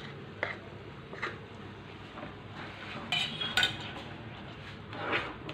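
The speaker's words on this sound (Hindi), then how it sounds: "इसको भी यहाँ पे डाल के अच्छे से हम चलाएंगे" A spoon stirs yogurt into spices in a pan, with soft scraping and a few light metallic clinks and taps against the pan, close up and fairly quiet, without speech.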